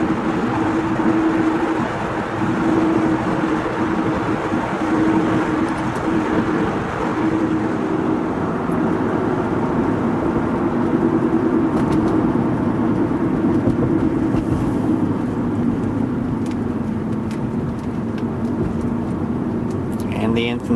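A 1996 Acura TL 3.2 with a 4-speed automatic rolls at speed over rough road at night, its low steady road and engine rumble continuous throughout, with a brief jolt from a bump partway through.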